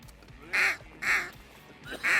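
Ducks calling on a hunt for redheads in the Laguna Madre, Mexico: three loud, nasal quacks spaced about half a second apart, each close and bright over a low background murmur.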